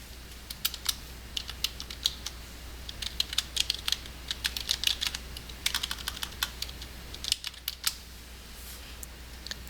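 Search terms are typed on a computer keyboard in quick, irregular bursts of close, crisp key clicks, with short pauses between runs and a faint steady hum behind them.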